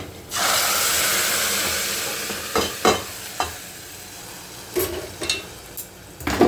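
A sputtering hot tempering is poured into a buttermilk curry (mor kuzhambu), setting off a loud, sustained sizzle that gradually fades, with a few sharp pops and clinks from the pan alone.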